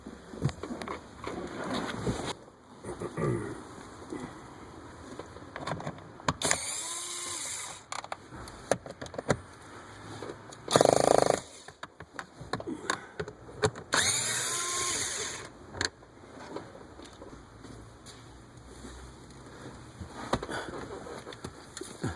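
A power drill or driver backs bolts out of the cowl of a 2000 Ford Windstar during heater core work. It gives several loud, close whirring bursts of a second or so, separated by quieter workshop background.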